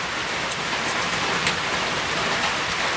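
Steady rain falls in a dense, even hiss of drops spattering on surfaces, continuous and close with no voices over it.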